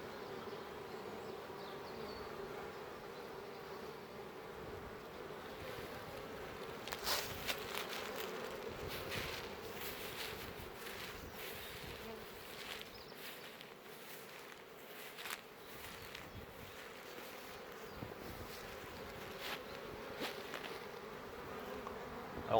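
Honey bees buzz steadily throughout at a springtime apiary, a dense continuous hum from many insects close by, with occasional louder passes of individual bees near the listener.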